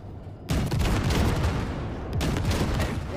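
Sustained loud gunfire blasts away at ship wrecks in Cyberpunk 2077, a dense continuous barrage that erupts abruptly and keeps pounding for several seconds with a brief break near the end.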